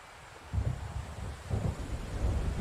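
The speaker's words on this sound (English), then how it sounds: "It seems there's a storm coming." Thunder of an approaching storm in the video game Alan Wake, low rumbling rolls swelling in repeated waves over steady wind and rain-like hiss.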